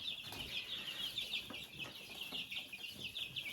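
Young chicks kept under a heat lamp peep and cheep continuously in a steady, busy chorus, the high calls overlapping densely at a moderate level with no voices.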